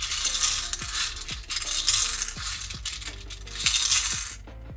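Elder Futhark rune stones shuffled by hand, producing a continuous clattering of small hard pieces knocking together with bright ringing clicks, close and moderately loud, without any voices.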